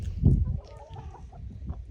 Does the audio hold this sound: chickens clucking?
yes